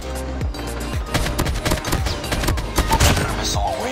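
AK-47 fire in the video game Call of Duty Mobile, rapid loud bursts of automatic gunshots cracking in quick succession, dense and close for the whole few seconds.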